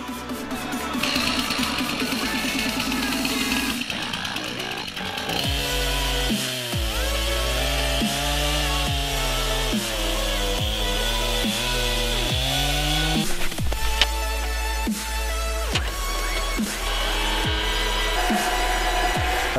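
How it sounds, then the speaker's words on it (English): Chainsaw cutting a fallen log during snowy track clearing, a loud, close engine whine that holds for the whole stretch, rising and falling in pitch as the chain bites into the wood. "I reckon we get the chainsaw out and we cut it maybe about here"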